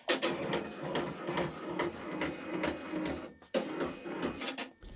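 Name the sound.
10-needle embroidery machine moving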